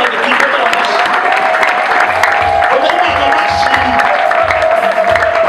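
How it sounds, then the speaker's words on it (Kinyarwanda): A church congregation claps hard and continuously, a loud sustained wash of applause with crowd murmur and some voices mixed in underneath. "reka tuyikomere amashyi cyane, tuyikomere amashyi."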